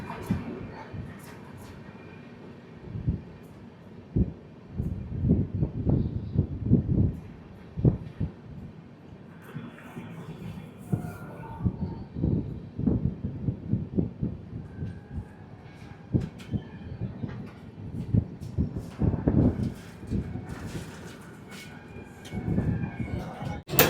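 The Netaji Express train, running late after leaving Dehri, clatters along with repeated rhythmic bursts of wheel-on-rail thumps over steady rolling noise, heard from inside at moderate volume.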